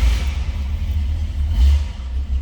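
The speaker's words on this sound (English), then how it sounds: "Let's go ahead and fire this up so you can hear it run." A 1967 Pontiac Firebird convertible's engine idling after a cold start, a loud, steady low rumble that swells slightly partway through, with no voices.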